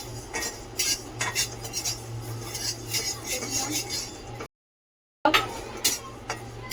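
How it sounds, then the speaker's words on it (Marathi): Coriander seeds dry-roasting in a hot kadai, with rapid light clinks and scraping as the spoon stirs them, a brief silent gap, then more clattering stirring. "राई भाजून झाल्याच्या नंतर हे धने, असंच आपल्याला हे सर्व वस्तू भाजून घ्यायच्या आहेत थोडा वेळ."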